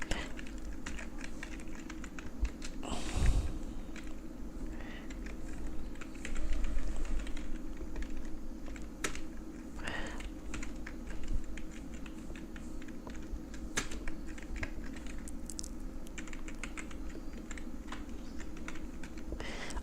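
Keys tapped in steady bursts on a computer keyboard while text is typed into a word processor, close and fairly quiet over low room hum, with a couple of louder knocks.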